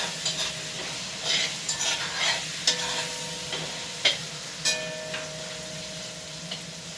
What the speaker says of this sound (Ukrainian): Так, все, м'яско вже хорошо підсмажило. Перемішаю.